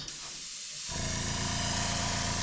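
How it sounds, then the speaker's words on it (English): A steady, loud spray paint hiss starts after a brief pause and continues evenly, close up, with no talk, sprayed over a stencil. "I'm going to spray it from the back to the front."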